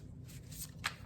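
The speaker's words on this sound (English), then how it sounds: "I think I'm gonna shuffle" A deck of tarot cards is shuffled close by, with soft riffling and a sharper flick of cards near the end, quiet and free of talk.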